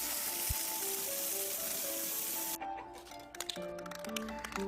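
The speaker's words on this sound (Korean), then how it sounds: "이제는 물을 뿌려서 구연산을 제거할 차례입니다." Water sprayed onto a Harley-Davidson motorcycle's rusted body panel to rinse off citric acid, a steady hissing spray that cuts off partway, followed by scattered drips and splashes.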